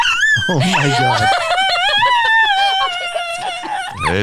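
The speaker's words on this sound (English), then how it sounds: "It's not every day you get the singing dog, Alfie, in studio." A dog in a podcast studio howls along in one long, sustained, wavering note that rises and falls, loud and close, with a brief voice near the start and end.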